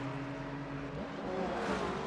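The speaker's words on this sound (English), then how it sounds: "Oh, cars speeding past." Race cars in a sim racing game at Monza speed past one after another, engines whirring and rising in pitch as they go by, steady and close.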